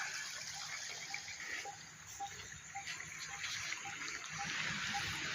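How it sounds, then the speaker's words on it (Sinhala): Spring water from a hillside flowing along a stream in a Sri Lankan village, a continuous close rushing and burbling with steady level throughout. "ඒ කන්දෙන් තමයි මේ වතුර පාරේ ඉන්නේ උල්පත් වතුර."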